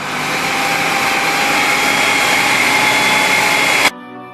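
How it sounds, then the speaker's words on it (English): A fire engine's pump motor throttled up to build water pressure, a steady loud mechanical drone with a high whine holding for about four seconds before cutting off abruptly, no talk. "Throttling the engine up increases what?"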